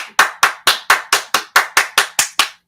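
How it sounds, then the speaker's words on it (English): Eleven sharp, evenly spaced hand claps from a single person during a live-streamed church-style broadcast, each crisp and close with a quick decay, steady rhythm and no talking. "Give God a round of applause."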